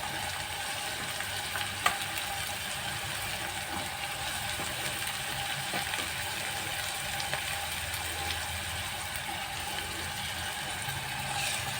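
Tomatoes added to masala frying in a pan, a constant close sizzle with a few faint clicks of a utensil, with no voices.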